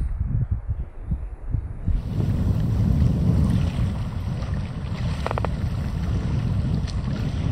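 Strong wind in the Vätsäri and Tsarmitunturi wilderness of northern Finland roars steadily against the microphone, a dense low rumble with gusty surges and no voices.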